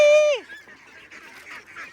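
Domestic ducks returning home: one loud, close nasal honk that falls away at the end, followed by fainter scattered calls from the flock.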